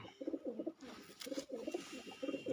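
Red Cheena pigeons coo nearby in soft, burbling phrases that repeat in three quick bursts with brief pauses between them.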